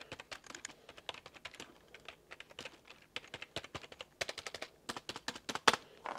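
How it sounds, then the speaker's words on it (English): Keys clack on a traditional office computer keyboard, an older-style model, in quick irregular bursts of typing with short pauses, close and fairly quiet, with no talking. "this is a traditional keyboard, an office keyboard that most people would have used in the past"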